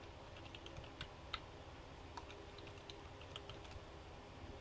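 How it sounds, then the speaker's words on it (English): Quiet, close typing on a computer keyboard, with scattered light key clicks and a few sharper taps in an irregular rhythm over a low room hum. "Got to remember not to talk as I'm typing in passwords and stuff like that."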